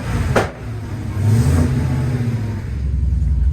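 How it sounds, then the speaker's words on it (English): A supercharged Hellcat V8 swapped into a 1969 Dodge Charger revs close up, a loud rumbling surge of engine noise rising and holding, with a brief dip before it builds again. "I can hear that supercharger"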